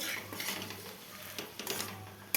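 Greens chorchori cooked in fish oil being stirred in a pan, soft scraping and light sizzle with a few quiet utensil taps and a sharp clink at the end, close and faint, no talk.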